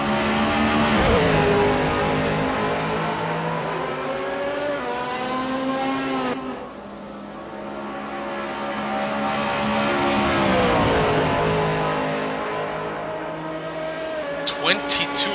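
Race cars in a racing video game sweep past the start-finish line at Watkins Glen, engines rising and falling in pitch as several loud pass-bys follow one another, with a commentator talking throughout.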